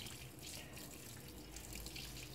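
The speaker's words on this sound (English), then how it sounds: "The tub takes the water automatically." Water pours steadily into the tub of an LG top-loading fully automatic 10 kg washing machine, a constant, faint rushing flow with no speech.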